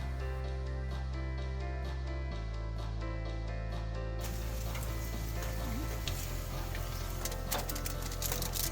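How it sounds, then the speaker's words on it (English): Open-fire cooking of a dish with onion, garlic, tomato, vinegar and soy sauce, giving a steady close sizzle and frying crackle, with a low hum underneath and brighter hissing in the second half. "Of course, cooking over an open fire."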